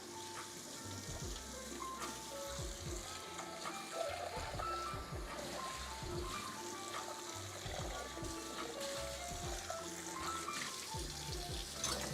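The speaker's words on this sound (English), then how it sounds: "So now I'm gonna wash my bowl." Tap water running steadily into a sink while a bowl is washed, a soft continuous hiss broken by faint clinks and splashes.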